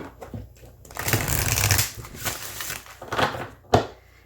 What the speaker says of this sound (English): I'm not really having any trouble shuffling it.